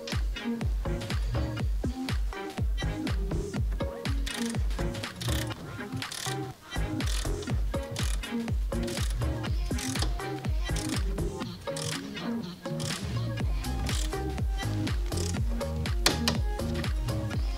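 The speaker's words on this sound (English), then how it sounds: "get our torque wrench, the 5mm Allen socket, and ensure that's tightened to 12 newton meters maximum" Rapid steady ratcheting of a torque wrench with a 5mm Allen socket tightening a bike seat post clamp on a Dolan Ares frame, close and continuous clicking throughout.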